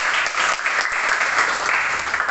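Applause from a primary school classroom, a dense steady patter of many small hands clapping together, moderately loud and continuous throughout with no talk over it.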